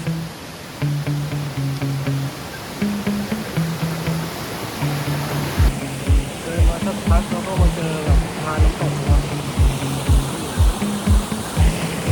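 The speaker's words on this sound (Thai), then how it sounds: "เสียงน้ำตก รอบด้านเลยครับ" A waterfall and a flowing stream make a broad, steady rush of water surrounding the listener, while someone talks over it and heavy rhythmic thumps enter partway through.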